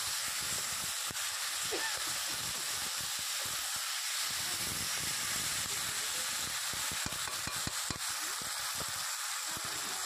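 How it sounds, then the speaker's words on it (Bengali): Meat being fried (kosha) in a pan, a steady broadband sizzle and hiss running continuously at moderate level with small crackling pops throughout. "তো ভালোভাবে মাংসটাকে কিছু সময় কষিয়ে নিতে হবে।"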